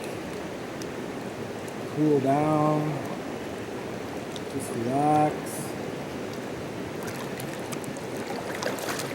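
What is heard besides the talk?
creek water flowing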